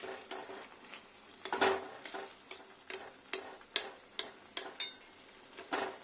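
Bottle gourd with poppy seed paste simmers in a pan while a spoon stirs it in regular scraping strokes, each a short clink over a soft bubbling hiss, close but fairly quiet.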